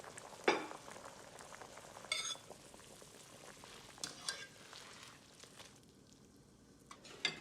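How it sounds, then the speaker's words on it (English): Enoki and wood ear mushrooms boiling in a pan make a quiet, irregular bubbling and crackling, with scattered soft pops and clinks throughout. "Boil a minute to remove the funkiness from the mushroom."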